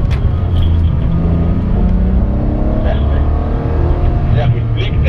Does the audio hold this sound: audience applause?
no